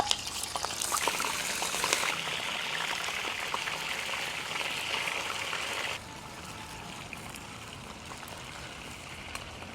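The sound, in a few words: pomfret fish shallow-frying in oil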